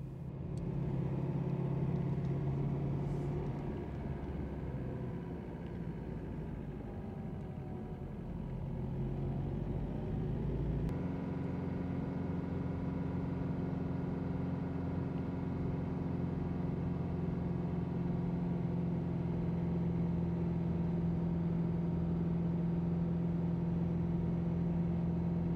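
A car engine hums steadily while driving up to a hilltop castle ruin, a low continuous rumble with a slight shift in pitch partway through, close and alone with no talk.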